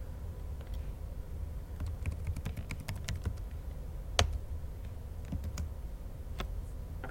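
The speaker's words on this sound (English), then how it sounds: "We're going to make up a fake password." Fingers typing on a computer keyboard, a steady run of light, fast clicks at close range with one sharper keystroke partway through, against a quiet room hum.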